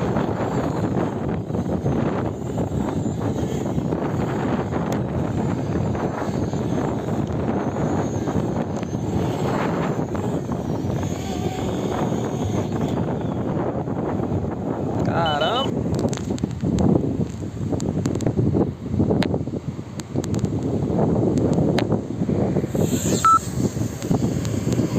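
Gusty wind roars and buffets the microphone as a FIMI X8 Mini drone struggles to land, a thin high motor whine riding over the constant blustery noise, with a voice heard now and then.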